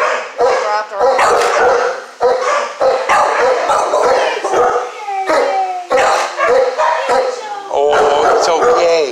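A Walker Coonhound barks, bays and howls at a county dog pound, loud and close, with long drawn-out howls broken by sharp barks and whimpering yips.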